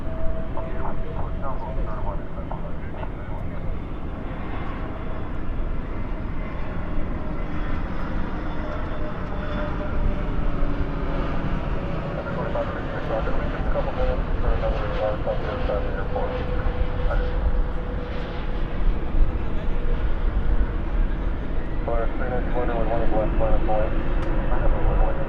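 A landing airliner at Dallas/Fort Worth International Airport at night, spoilers up and reverse thrust deployed, roaring steadily in the distance as people talk over it throughout.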